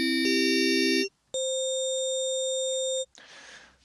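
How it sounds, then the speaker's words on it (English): Steady electronic tones from a Deluge synthesizer ring out: one low sustained note, a brief gap, then a higher sustained note, ending with a short burst of noise. "all we're hearing is a single tone."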